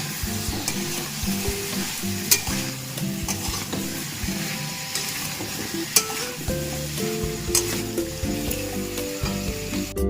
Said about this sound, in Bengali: টমেটো এবং ধনে পাতা সবগুলোকে আমি খুব ভালোভাবে মিশিয়ে নেবো